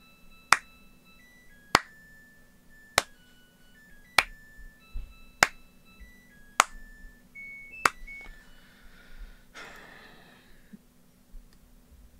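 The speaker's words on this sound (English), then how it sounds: "I'm clapping for Rabi Ribi." Slow, evenly spaced hand claps, about eight crisp single strikes roughly a second or more apart, sounding close and clean, with faint electronic tones in the background.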